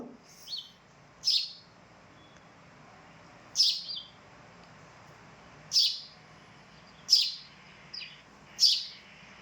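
Short, bright sparrow chirps repeat every second or two against a quiet background, sometimes in quick pairs, clear and fairly close, from an orphaned young bird.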